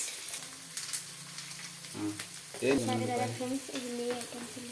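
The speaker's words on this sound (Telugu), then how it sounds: "శనక్కాయలు వేస్తున్నాం ఫ్రెండ్స్." Peanuts fry in a pan for spicy puffed rice, with a soft sizzle and stirring scrapes under faint background voices and some tonal household noise.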